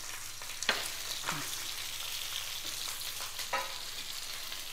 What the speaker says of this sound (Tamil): அடுப்பை மீடியமாக வச்சுட்டு நம்ம நல்லா சுட்டு எடுப்போம்.